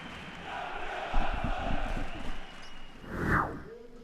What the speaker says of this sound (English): A sellout crowd turned up in the Dom Sportova hall to witness the first two placed teams of the league lock horns.